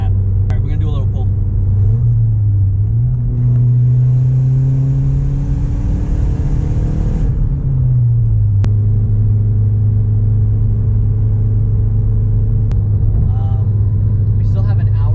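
A Mazdaspeed3 engine drones loudly, its pitch climbing as it revs up through a hard pull, then settling back to a steady cruising hum around 80 mph.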